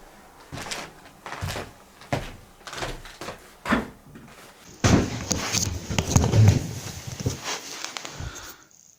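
An apartment door being opened and shut, first a series of soft wooden knocks and thuds, then a longer stretch of louder rustling, creaking handling noise, all without speech.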